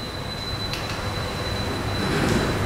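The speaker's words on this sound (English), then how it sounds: "You know this bullet train" A bullet train running at around 300 km/h gives a steady, loud rushing roar with a thin, constant high whine, swelling slightly toward the end.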